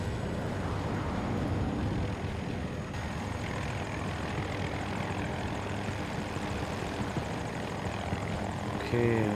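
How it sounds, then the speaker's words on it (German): An attack helicopter in Battlefield 2042 drones steadily with a dense, loud rotor and engine roar that stays constant throughout, with a brief added burst near the end. "Attack-Heli, kommt zu Bravo."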